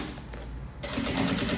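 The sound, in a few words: sewing machine stitching a seam on a pencil case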